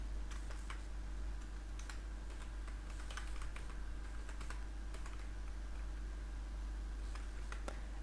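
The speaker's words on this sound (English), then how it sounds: "type here your Facebook address" A web address is typed on a computer keyboard, with light, scattered keystroke clicks over a steady low hum. No one speaks.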